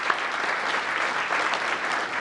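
A room full of people at a town council meeting applauds employers and servicemen, steady dense clapping that fills the whole stretch at an even level with no voices rising above it.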